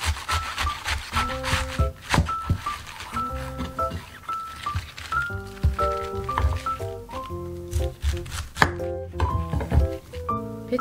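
A knife chops napa cabbage on a cutting board for geotjeori kimchi, with repeated uneven thunks and rubbing under a steady backdrop of music.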